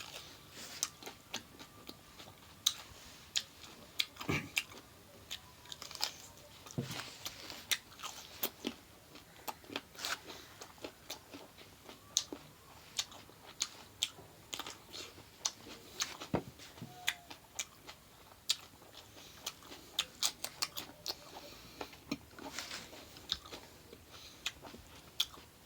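Someone bites and chews crunchy food close up, with sharp irregular crunches and snaps repeating over a quiet background for the whole stretch.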